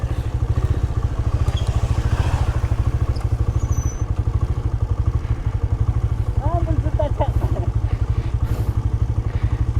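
A motorcycle engine pulses in a fast, regular throb close by as the bike is ridden toward a waterfall, and a voice briefly sounds over the engine partway through.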